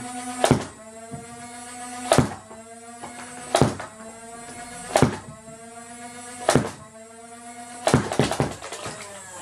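A Nerf Doomlands Impact Zone Desolator blaster fires six or so spaced shots, each a sharp mechanical thunk with a springy ringing decay, ending in a quicker double shot.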